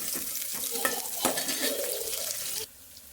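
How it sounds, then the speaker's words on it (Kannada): Spices crackle and sizzle in hot oil with a spoon stirring against the pan, busy and close, before the frying fades to quiet. "ನೋಡಿ ಒಗ್ಗರಣೆ ಹಾಕ್ತಿದ್ದೀನಿ"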